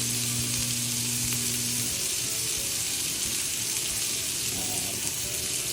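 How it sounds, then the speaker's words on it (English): A thick steak fries loudly in a pan with garlic and butter, a dense continuous sizzle close up, with a brief low hum early on. "So I'm going to let that cook for like, I don't know, 3 to 4, maybe 5 minutes, because it's a nice thick steak."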